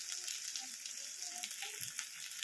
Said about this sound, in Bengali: এখানে একটু আঁচটা জোরে দেবো, দিয়ে এরকম নাড়িয়ে নাড়িয়ে বেরেস্তাটা বানিয়ে নেব।